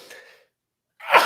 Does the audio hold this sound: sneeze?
yes